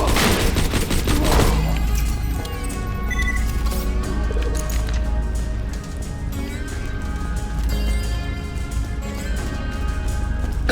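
Shotgun fire in the video game Borderlands 2, a loud blast at the start followed by a busy mix of game effects and music with repeated sharp reports.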